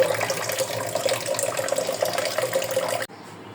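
Gourd leaves are washed by hand under a running tap, a steady splashing gush of water that cuts off abruptly near the end.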